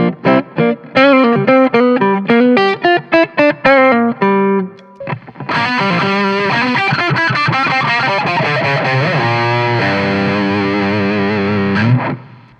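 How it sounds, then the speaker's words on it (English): Electric guitar through a G20 Infinium 20-watt Class-A tube amplifier head with Morph EQ and reverb: a clean, choppy chorded riff, then a sustained, heavily distorted overdriven passage of ringing chords, loud and alone. "So I get a wide array of tone on the guitar, just switching the channels of this amplifier."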